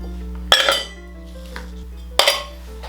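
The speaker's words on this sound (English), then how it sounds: "Grab your ice. I'm gonna go 4 cubes." Ice cubes dropped into a metal cocktail shaker for a daiquiri, two sharp clinking impacts about a second and a half apart, close and clear against a quiet background.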